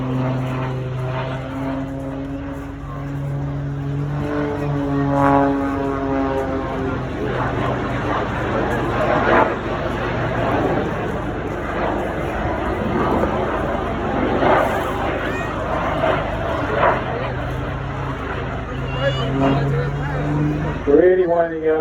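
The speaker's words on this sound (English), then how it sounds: "It sounds very strange, doesn't it, having a bit of jet noise as well there." An aerobatic display aircraft at the Eastbourne Airshow drones continuously overhead, its propeller engine humming in rising and falling tones mixed with a jet-like roar, while a commentator talks over it.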